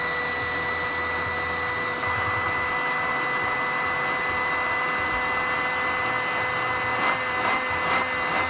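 Electric pump of a Coleman instant queen cot air mattress running at full fill, a steady loud whine with tonal hum that shifts as air purges back through the intake, continuous and close.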